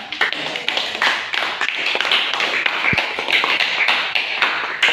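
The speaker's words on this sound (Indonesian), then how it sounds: "Ya, kita berikan aplaus kepada." A classroom of students claps after a group presentation, a dense, close, steady patter of hands lasting a few seconds.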